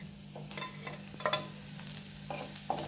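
Garlic and curry leaves stirred while dry-roasting in a pan, soft scraping strokes and gentle crackle over a low steady hum, close and fairly quiet, with no talking.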